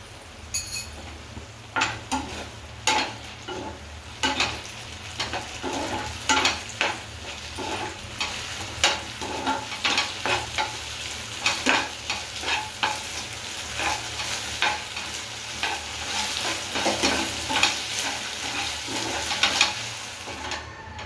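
Slurry goes into a red chilli gravy sizzling in a pan, and a spoon keeps stirring it, so a steady frying hiss runs throughout with repeated scraping and light clinks of utensil on cookware.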